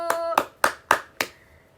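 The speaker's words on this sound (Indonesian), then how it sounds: "Yuk, tepuk tangan untuk kelompok 1" Five sharp, separate claps spaced about a quarter-second apart, children clapping in a classroom to praise group 1, close and crisp with a short decay after each.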